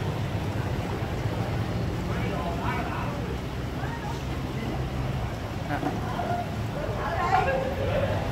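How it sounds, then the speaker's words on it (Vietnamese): A stone-laden barge reversing at a sluice gate on a waterway, a steady low engine rumble with churning water noise, continuous and fairly near, while people talk over it. "đây là lần thứ hai chiếc xà lan phải lùi lại"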